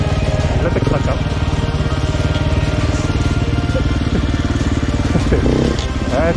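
A motorcycle engine idles with a steady, close, rhythmic chug as the clutch is let up and the bike rolls without throttle, with people talking over it.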